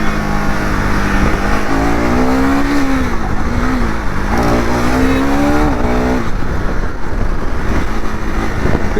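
A 2025 KTM 390 Adventure motorcycle is ridden at an easy pace, its engine droning steadily with gentle rises and falls in pitch under loud wind buffeting, heard from on board without talk.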